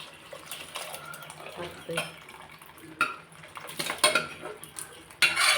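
Metal utensils clatter and scrape against a pot as boiled mutton is tipped into masala for biryani, with irregular knocks and clinks as the meat is moved around.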